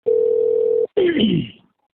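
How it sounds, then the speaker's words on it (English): A recorded phone call begins with a steady, loud telephone dial tone lasting under a second, then a brief gap and a falling electronic tone that fades out quickly. "Now what we're going to listen to is Charlie calling him"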